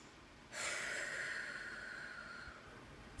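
A singer in a mariachi master class takes one long, steady breath for a breathing exercise, a soft airy hiss that begins abruptly and holds for nearly three seconds, close and quiet, with no talking.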